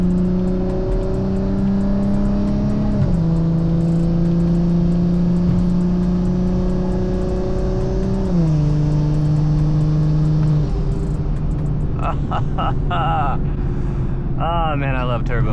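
A turbocharged 800+ horsepower BMW 340i runs with a loud, steady engine drone that steps up in pitch through several gear changes, close and continuous, with chatter and other noise rising near the end.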